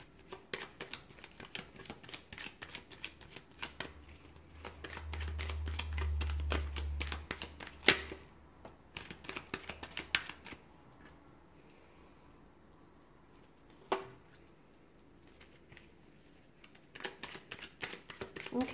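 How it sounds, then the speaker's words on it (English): Rapid riffling and soft slaps of cards being shuffled by hand, in repeated bursts with brief pauses and a low rumble in between. "I'm going to give the cards a shuffle"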